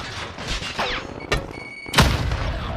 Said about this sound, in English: I threw a grenade.